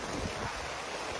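Strong wind gusting through rain outdoors, a loud, continuous rushing roar buffeting close against the microphone, with no voices.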